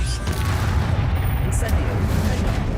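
The Incendio fire spell is cast in Hogwarts Legacy, a dense, rumbling burst of fiery booms and crackle that fills the moment, with a voice heard over it.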